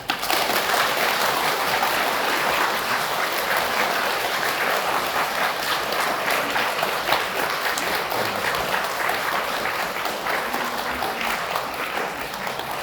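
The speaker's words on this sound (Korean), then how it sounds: "여러분들 우리 하느님께 삼위일체 하느님께 감사의 박수." A Catholic congregation in a Seoul parish church breaks into sustained, dense clapping, a loud and even wash of applause lasting around thirteen seconds with little voice in it.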